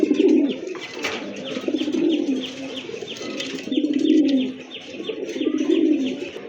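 Large native pigeons coo at a pigeon sale, with a deep, rhythmic, rolling coo repeated in close, steady waves and faint chirps above.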